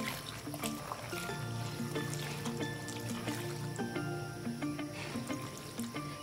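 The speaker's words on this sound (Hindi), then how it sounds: "अब मैं इसमें मज़ीद पानी ऐड करती हूँ" Water poured into beef trotters in a pressure cooker for paya curry, a steady trickling, splashing fill held close and fairly loud throughout, with faint clinks and no talk.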